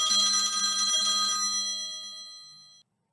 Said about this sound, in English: I normally cut out a phone ringing on my videos